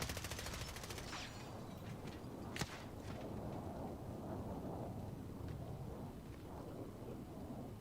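Rumbling, crackling explosions from an enemy precision airstrike in a first-person shooter, a rapid burst of sharp cracks followed by one loud hit, then a long low rumble fading under faint ambience.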